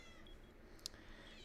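A cat gives a single faint, brief meow indoors over quiet background noise in a room where a Rainbow Six Siege game is being played.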